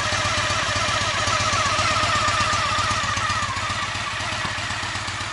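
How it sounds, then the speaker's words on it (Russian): A Honda Shadow VT 750 (2000) motorcycle V-twin idles steadily close by, with an even, throbbing low rumble and a faint mechanical tick, and no voices over it. "И мотор аж шепчет!"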